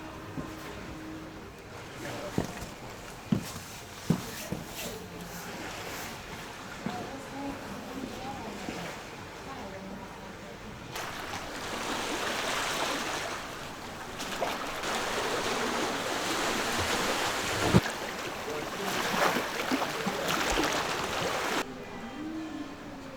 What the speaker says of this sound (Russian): слушая, как море дышит прямо под ногами жителей этих домов